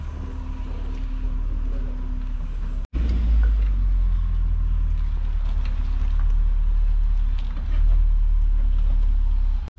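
A car rolls up to a diagnostic bay in a car repair workshop, a steady low engine rumble running close and continuous, with a brief cut partway before the rumble resumes and swells slightly near the end.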